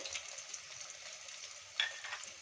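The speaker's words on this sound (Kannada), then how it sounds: "ಈಗ ಚೆನ್ನಾಗಿ ಸ್ವಲ್ಪ ಫ್ರೈ ಮಾಡ್ಕೊಳ್ಳೋಣ" Green chillies and chopped ginger fry in hot oil for a kachori filling, giving a steady, close crackling sizzle with a small burst of spattering near the end and no talking.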